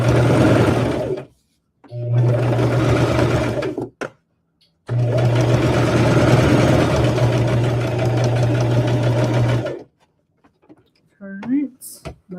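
A cheap Walmart sewing machine stitches through a rag quilt in three loud, steady runs separated by short pauses, with a faint voice and light handling noises near the end.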